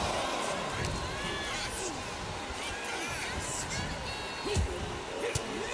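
Arena crowd cheering in WWE 2K25 during a legends wrestling match, a steady roaring swell of many voices with whistles and whoops, heard under a commentator's talk.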